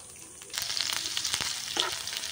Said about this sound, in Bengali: লঙ্কাটাকেও খুব ভালো করে ভেজে নেব।